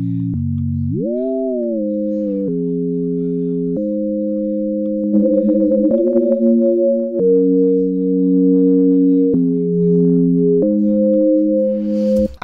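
Synth chords built from sine waves hold pure, smooth tones that slide up at the start, then step through several sustained chord changes, loud and steady with no voices.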